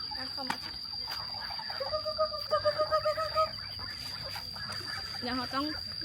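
Chickens cluck in short repeated bursts mixed with ducks in a shared backyard flock in Laos, with a person talking over much of it and a steady insect-like hiss behind.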